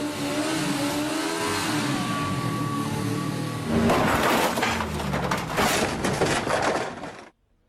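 A motorbike engine runs to power a homemade snow blower, humming steadily at first and then swelling into a louder, rougher rumbling roar before cutting off abruptly.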